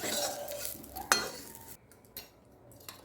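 Fried soybeans are lifted out of a pan, with a sharp metallic scrape and clink from a utensil over a light sizzle, followed by a couple of softer taps.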